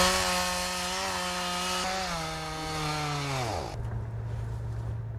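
Chainsaw cutting through storm rubble, a loud, steady high engine whine that holds, then drops in pitch as the cut ends, leaving a lower idle.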